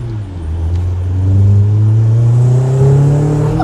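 An Audi A4 1.8T with an Ultrasport aftermarket exhaust drives past close by, a loud, steady engine drone that rises slightly in pitch as it goes by.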